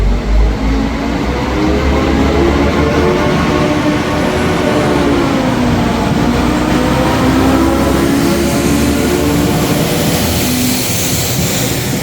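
A train pulls out of Stockport station on a rainy day on the Stockport to Cardiff line, its loud, close engine drone rising and shifting in pitch over a steady rumble that lasts the whole time.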